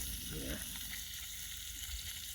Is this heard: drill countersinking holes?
no